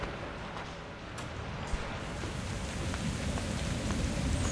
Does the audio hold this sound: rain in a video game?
yes